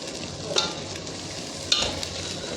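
Whole spices roasting and sizzling in hot oil with ginger-garlic paste for a restaurant-style Kolhapuri gravy, a steady close frying hiss with two brief sharper stirring scrapes.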